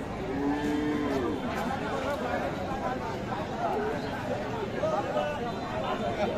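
At a busy cattle market, a three-month-old local-breed bull calf stands among livestock, with lowing moos and shuffling animals over a steady murmur of people chatting nearby.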